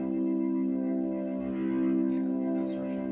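Distorted synthesizer tone played through a Komplete Kontrol keyboard, a steady stack of buzzing harmonics held for about three seconds with slight swelling and echo-like shimmer, fairly loud and alone.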